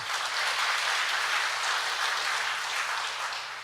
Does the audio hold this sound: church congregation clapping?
yes